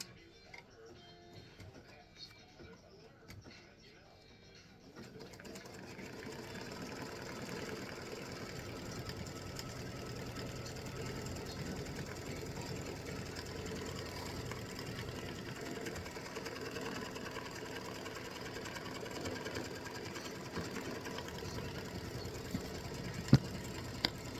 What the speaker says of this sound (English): So this is color step number 3, is stitching this center placement line.